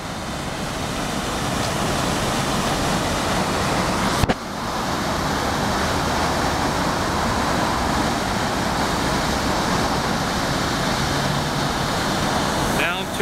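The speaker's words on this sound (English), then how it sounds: "Oswego Lake being drained out." Water rushes continuously as Oswego Lake is drained at the dam during a 2010 drawdown, a steady broadband roar like a waterfall, fairly close and unbroken, with a brief knock partway through.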